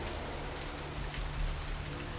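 Steady rain falls in the video game Vampire: The Masquerade – Bloodlines, a dense, even hiss of rainfall on city streets heard alone at moderate level.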